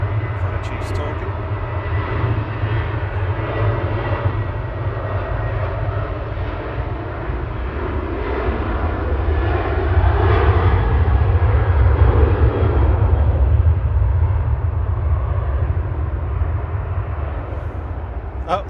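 A plane takes off at Manchester Airport with a broad, steady engine roar that swells toward the middle and then eases slightly, heard from a distance under a constant low rumble.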